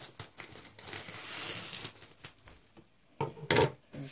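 Clear plastic cling film crinkles and rustles as it is cut and handled to wrap a parcel, with soft scattered crackles and a couple of sharper, louder bursts near the end, close by and without talk.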